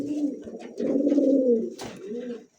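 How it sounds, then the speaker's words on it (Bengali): A male pigeon cooing close by, a few low rolling coos in quick succession with a short gap, heard alone. "দেখেন নরের ডাকটা দেখেন"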